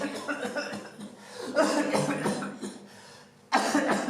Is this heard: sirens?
no